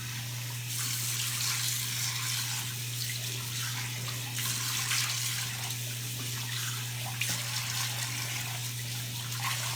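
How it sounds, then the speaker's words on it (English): Cool water runs steadily from a tap into a sink while a face is being rinsed, a constant close splashing hiss that carries on unbroken for nearly ten seconds, with a low steady hum beneath and no talking. "And now I'm going to take cool water"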